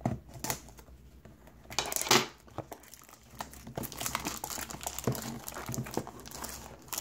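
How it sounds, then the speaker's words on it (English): Crinkly plastic wrapper on a Topps WWE trading card pack crackles and tears as scissors snip through it, with irregular rustling and sharp crunchy bursts close by. "I also forgot my blade, so we're improvising with these scissors."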